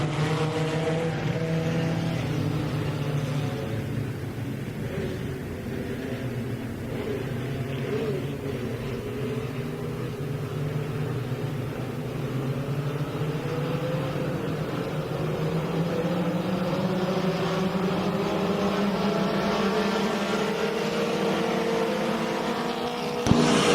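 A pack of race cars roars around Lake Ozark Speedway in a one-lap shootout, engines droning and rising in pitch as they accelerate through the turns, a steady loud mix of overlapping motors.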